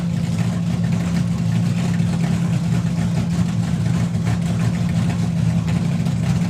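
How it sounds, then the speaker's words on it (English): A nitro fuel dragster engine at a drag racing event drones loudly and steadily as it stages, a thick low rumble with rapid pulsing throughout and no talk. "now you'll really hear the RPMs drop as they go into stage, turning the nitro onto full"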